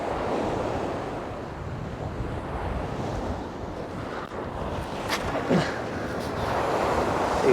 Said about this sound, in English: Quite hard with the wind straight at my chops.